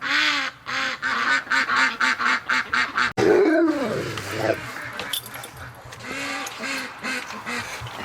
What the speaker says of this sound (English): Just listen to those ducks.